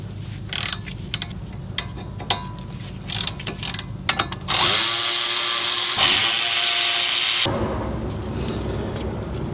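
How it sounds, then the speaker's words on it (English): Brake caliper slide pin bolts on a 2002 Dodge Dakota SXT are loosened with a 7mm hex tool: sharp repeated ratchet clicks, then a sustained harsh whirring burst of a power tool, close and loud. "now we can loosen and remove these two slide pin bolts"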